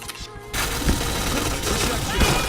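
Rapid gunfire from PointBlank, an online first-person shooter, crackling in dense overlapping bursts with sharp louder shots, constant and close.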